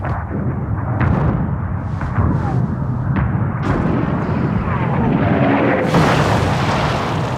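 A World War I artillery bombardment at Verdun, with heavy booms and rumbling blasts that follow one another in a continuous, loud barrage, and a brighter burst near the end.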